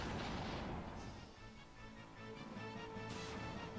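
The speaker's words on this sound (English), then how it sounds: "She may be a temp, but she can still use fire. Fire!" A fire spell erupts in Final Fantasy II, a dense crackling blast that swells at once and rumbles on with sizzling, fiery bursts and a second flare near the end, loud and close with no talk over it.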